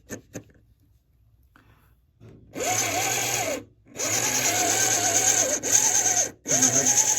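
A model shunter locomotive runs on rollers with a high motor whine that starts after a couple of clicks, running in bursts of about a second or more with brief stops between them.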